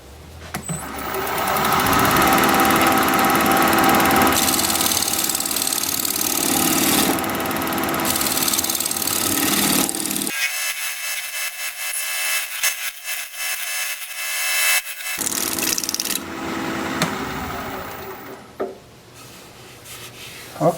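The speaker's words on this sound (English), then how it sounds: "I'm going to try shear scraping this a little." A wooden bowl of unknown wood is shear scraped on a wood lathe. The tool makes a loud, steady buzzing scrape over the whirring machine, cuts out abruptly for several seconds, then starts again.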